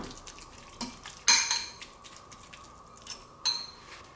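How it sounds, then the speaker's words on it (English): A fork mashes shrimp salad with mayonnaise in a bowl, giving a few sharp metallic clinks against the dish and soft wet scraping between them, close and fairly quiet. "Then we just take a fork and we mush it up."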